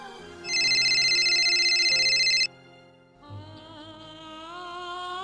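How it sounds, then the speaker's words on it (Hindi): A telephone in a home gives one long loud electronic trilling ring, then stops as soft music continues underneath. "लगता है उनका ही फ़ोन है"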